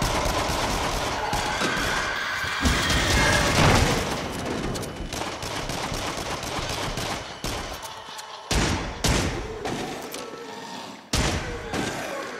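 Rapid bursts of gunfire from a weapon in the VR horror shooter Until Dawn: Rush of Blood, loud and close, with dense volleys, heavy thuds and brief gaps between bursts.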